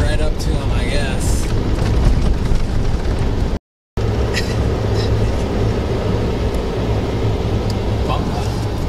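A vehicle drives across open ground toward a shot coyote during a frigid South Dakota coyote hunt, giving a loud, steady engine and road rumble that cuts out for a moment midway, then resumes.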